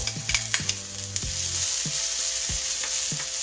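Salmon pan-frying with dill gives off a close, steady sizzle, punctuated early by a few sharp clinks and stirring scrapes, then settling into even crackle with occasional soft taps.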